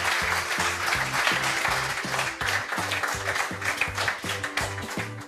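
A restaurant dining room breaks into sustained applause for the chef after service, many hands clapping steadily for several seconds over a rhythmic, repeating low musical beat.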